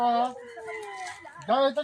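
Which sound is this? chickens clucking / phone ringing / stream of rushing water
chickens clucking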